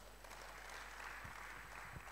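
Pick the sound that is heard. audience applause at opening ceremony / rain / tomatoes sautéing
audience applause at opening ceremony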